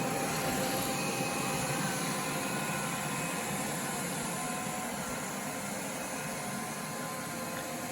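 A BISSELL ICONpet robot vacuum runs steadily on a floor, giving a constant broadband whooshing motor and suction hum close by, with no talking.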